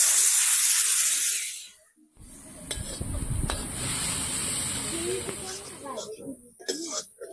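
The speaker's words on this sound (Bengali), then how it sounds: "এই ডালটা আমি এখন এই কড়াইতে দিয়ে দেবো" Boiled dal tipped into a hot kadai beside fried potatoes bursts into a loud, close sizzling hiss that fades after a second or two into quieter bubbling and stirring.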